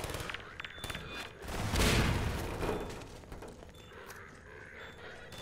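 A grenade blast in the video game Half-Life 2, a single loud booming explosion with a rumbling tail amid scattered gunfire and game noise.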